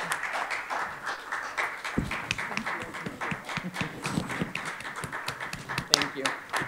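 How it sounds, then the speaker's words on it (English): A small group applauds at a board meeting, the clapping moderate and uneven, with voices speaking over it throughout. "So I think we should all give Cynthia a round of applause"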